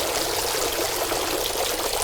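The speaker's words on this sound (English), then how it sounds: "So you have to let for it to all drain out" Water steadily draining and trickling out of a model VIIC submarine hull, a continuous close splashing flow with no pauses.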